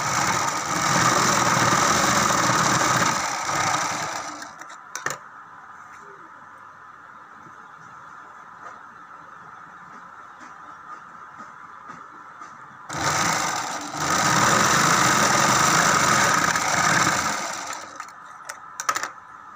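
A sewing machine stitches a readymade pavadai skirt in two steady runs of rapid whirring, close and loud, separated by a quieter pause with faint clicks and a voice talking.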